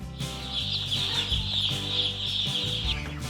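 A busy cluster of fresh hatchery chicks peep and cluck continuously close by, with no talking.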